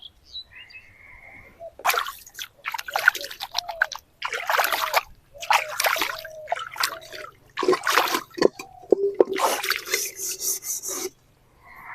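A black cooking pan being scrubbed and washed with water at a pond, with repeated bursts of rough rasping and rubbing broken by short pauses, plus splashes and trickling water, close and loud.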